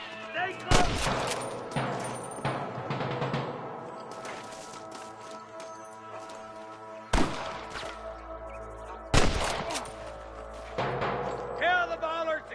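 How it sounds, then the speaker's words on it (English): Gunfire rings out in a Western shootout in the video game Red Dead Redemption, with several sharp, loud shot bursts spread across the scene over a music and ambience bed. "I can hear more gunshots."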